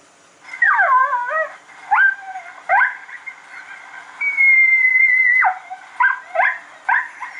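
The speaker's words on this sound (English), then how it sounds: "Okay, and then this is the coyote yip." Coyote yips from an Icotec 300 gen 2 electronic predator call: a loud, close series of quick, yelping barks with falling and rising pitch, broken by one longer drawn-out whine, with no voices.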